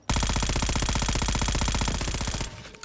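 Rapid sustained burst of automatic fire from the SOG gun in a shooter video game, a steady loud rattle of closely spaced shots lasting over two seconds before cutting off.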